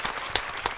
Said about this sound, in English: Give that a big round of applause.